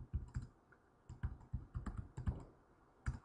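Typing on a computer keyboard while entering HTML, with quiet, close key clicks in irregular clusters and short pauses, and no talking.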